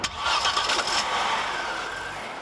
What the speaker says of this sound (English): the S4 gets its own turbocharged 5-cylinder engine